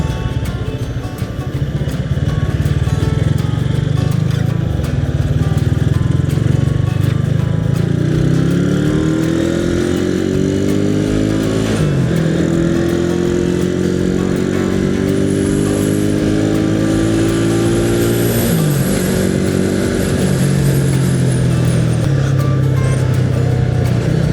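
Dense morning traffic jam of motorcycles and cars at a market near a red light in Jember, engines idling and revving steadily up close, with rising whines as bikes pull off, a continuous loud rumble throughout.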